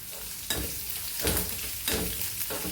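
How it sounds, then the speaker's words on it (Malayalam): Mustard seeds splutter and crackle in hot oil with country curry leaves while a Kerala-style coconut curry tempering is stirred, a dense, continuous sizzle broken by a few louder scraping strokes of the spoon in the pan. "കടുക് പൊട്ടിച്ച്"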